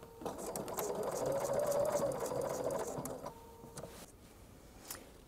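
A sewing machine fitted with a special presser foot stitches along thick and thin cording, giving a steady whirring buzz for about three seconds before slowing and stopping, with faint clicks after.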